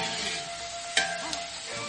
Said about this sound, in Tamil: வெங்காயம் நல்லா பொன்னிறமா வதங்கட்டும்